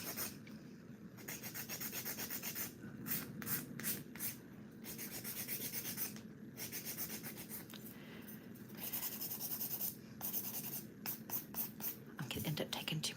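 Acrylic nails being filed with a higher-grit nail file, a steady close rubbing and scraping in repeated back-and-forth strokes with brief pauses, heard under quiet talk.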